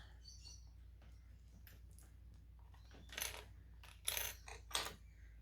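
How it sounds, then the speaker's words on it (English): Plastic sewing clips snapped onto pieces of vinyl fabric, three small, faint clicks spaced out near the end over a low, steady background hum. "I'm going to clip it in place."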